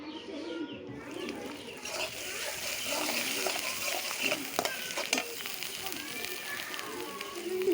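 Beans and potatoes with spices stirred in a pan, steady frying sizzle with spatula scrapes and clinks, while pigeons or doves coo in the background and a voice speaks at times.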